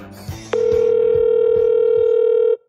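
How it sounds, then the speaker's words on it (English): A voicemail tone sounds before the recording of a message: one steady, loud electronic beep held for about two seconds, following faint phone-line noise, then cutting off to quiet. "At the tone, please record your message."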